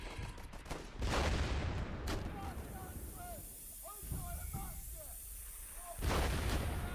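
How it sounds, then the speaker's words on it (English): Mortar artillery fire in a video game, heavy booming blasts at the start and again near the end, with whistling, hissing incoming rounds in between. "that's my own mortar that's fighting me!"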